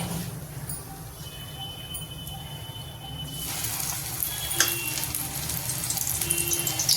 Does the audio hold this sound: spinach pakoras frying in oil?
yes